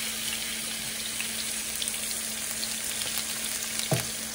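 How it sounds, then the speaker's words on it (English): Meat sears in a hot pan with a steady, dense sizzle and crackle that carries on without a break and ends in a brief clunk, with no talking. "you want to hear it start to cook immediately so we can get that nice brown on the side of it"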